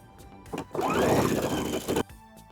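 Sewing machine stitching binding around the curved edge of a round drawstring pouch: a short burst of stitching close up, a brief hesitation, then a steady run of about a second that stops abruptly, with light handling clicks around it.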